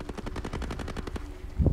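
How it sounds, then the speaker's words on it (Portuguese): Rapid automatic gunfire in the video game Tom Clancy's Breakpoint, a quick steady burst of about a dozen shots followed by a heavier thump at the end, fairly close with no talk over it. "Já tem alguém atirando aí."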